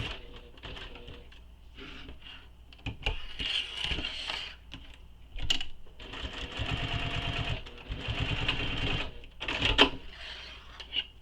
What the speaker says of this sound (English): Now I'm going to baste the edges of the anchor down too, these side and bottom edges.